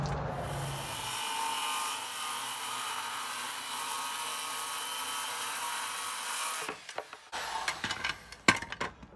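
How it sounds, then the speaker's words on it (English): Hand saw cutting across the grain of taped plywood: a continuous rasping drone for several seconds, then it stops and gives way to scattered knocks and scraping of the board being handled, close and moderately loud. "it's going to keep this from chipping when I saw it with my saw"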